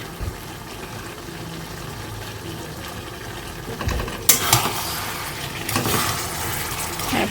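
Capsicum curry stirred in a pan, a low sizzle and scraping that swell into louder bursts of frying hiss in the second half, close by with no talking.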